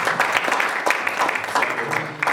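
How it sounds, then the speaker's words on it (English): An audience at a political summit applauds with a dense, steady patter of many hands clapping, moderately loud and sustained throughout. "A round of applause for Mrs."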